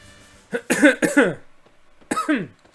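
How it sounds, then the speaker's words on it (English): A person coughs and hacks in a few harsh, close bursts, two quick coughs followed after a pause by another, each with a raspy, throaty edge. "Cough, cough, hack, wheeze."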